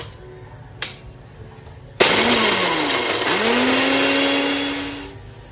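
A kitchen mixer grinder pulverizes dry coconut into powder, starting abruptly with a loud, steady whirring roar whose pitch dips and then climbs as the motor speeds up, running for about three seconds before winding down.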